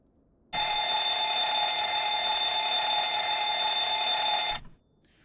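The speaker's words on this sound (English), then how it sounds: "Before starting the APU, we must conduct an APU fire test." A loud continuous APU fire test alarm in a Boeing 737 cockpit in Microsoft Flight Simulator 2020, steady and harsh for about four seconds, then cutting off abruptly.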